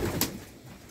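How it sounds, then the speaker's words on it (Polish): A short, soft racing pigeon coo, brief and close, with a faint click partway through and a quiet background. "To są lotowe gołębie"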